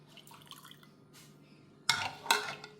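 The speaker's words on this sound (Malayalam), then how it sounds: "ഇത് നമുക്കൊരു ഗ്ലാസ്സിലേക്ക് ഒഴിക്കാം." Haba Al Hamra drink poured from a container into a glass, heard as two short splashing bursts of liquid near the end, close by and fairly soft over a quiet room.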